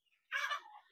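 A single short, faint gobbling call from village fowl, heard once and fairly distant against silence.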